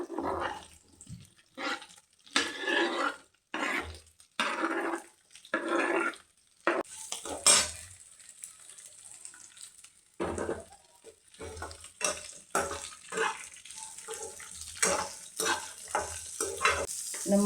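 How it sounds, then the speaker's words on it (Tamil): Green chillies sauté in oil in a pan, stirred with a spoon. Bursts of sizzling and scraping strokes come in uneven rhythm, with quieter pauses between, close and moderately loud. "இதெல்லாம் நல்லா வதங்கட்டும்."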